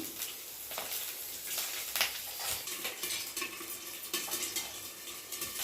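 Slit green chillies and garlic cloves fry in hot oil, a busy sputtering crackle mixed with spoon scrapes and clinks against the pan, fairly close and without talk.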